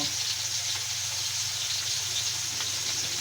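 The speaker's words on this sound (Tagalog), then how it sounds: "Ipiprito ko na yung isda. Yan, inilagay ko na yung isda." A steady, soft sizzle of fish frying in a small pan fills the clip, continuous and fairly close, with no voices.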